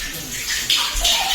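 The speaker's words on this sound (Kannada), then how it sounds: "ನೀರು ನೋಡಿ ಬರ್ತಾ ಉಂಟು ನೋಡಿ" Water runs through a historic cave where it flows all year round, a close, steady rushing and splashing that swells slightly over a second and a half.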